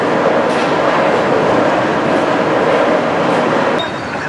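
An Athens metro train running underground, a loud, steady rumble and roar with rail clatter throughout, easing slightly near the end, no voices.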